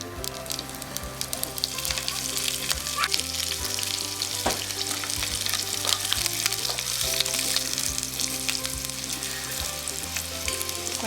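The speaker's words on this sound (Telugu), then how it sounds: "కొంచెం కలర్ వచ్చేంత వరకు వేపుకోవాలి" Peanuts, chana dal and green chilies frying in oil in a pan, a dense, continuous sizzle with crackling pops and occasional stirring clinks, close and steady throughout.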